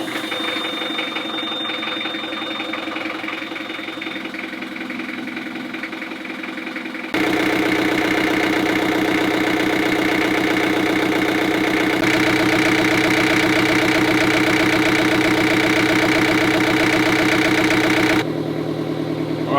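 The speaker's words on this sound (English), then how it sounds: "we need to start the engine" A sailboat's engine, just restarted after a fuel filter change, cranks and catches, then settles into a loud, steady, throbbing idle that carries on with a constant rumble.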